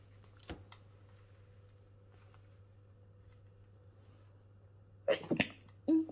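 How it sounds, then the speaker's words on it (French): A woman's sneeze bursts out once near the start, followed late by a second sharp burst and a brief rustle against a quiet room hum. "Pardon, j'ai éternué"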